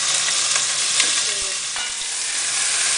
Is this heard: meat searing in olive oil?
yes